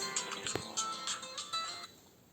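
A mobile phone rings with a short melodic ringtone, a rhythmic pattern of bright electronic tones at moderate volume that stops after about two seconds.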